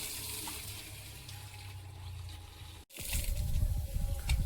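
Water gushing steadily from a pipe onto garden plants and soil outdoors, a continuous rushing flow that briefly cuts out and returns heavier and splashier.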